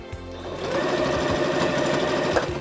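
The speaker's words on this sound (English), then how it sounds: "I'm not going to sew this all the way to the end because I know I don't want it that long" A sewing machine stitches through stretchy leggings fabric, starting with a few slow needle thumps before settling into a fast, even mechanical whirr up close.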